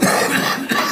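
A single short, rough cough is followed by a second quick cough, close and fairly loud.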